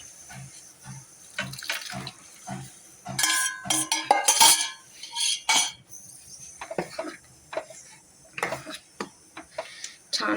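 Cooked whole masoor lentils are mixed into masala in a pan, with a spoon clanking and scraping against the metal in irregular bursts, close and fairly loud, punctuated by brief quiet gaps.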